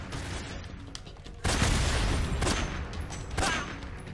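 A sudden loud boom bursts in, followed by rumbling noise and a second blast a couple of seconds later, in the video game Metal Gear Solid 3.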